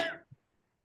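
One short, sharp cough, close to the mic, followed by a soft thump and then near silence.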